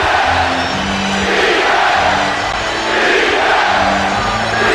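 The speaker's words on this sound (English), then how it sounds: "New York trying to mount a comeback down 7. crowd is back in it." In a basketball arena, the crowd roars loud and steady during a 1999 Eastern Conference Finals Knicks comeback against the Pacers, with swelling cheers and yells and no clear talk over them.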